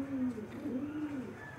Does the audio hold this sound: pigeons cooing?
yes